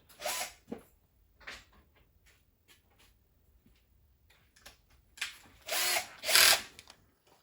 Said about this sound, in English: Switch drill bits.